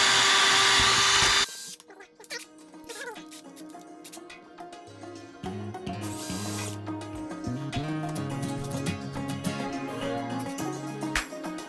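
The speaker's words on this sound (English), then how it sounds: "Once you start using your bigger drill bits, it's a little bit of a pain to start." A power drill bores a pilot hole with larger bits during a dipole antenna build, a loud burst giving way to whining, uneven motor drone with bites and surges as the bit catches and spins.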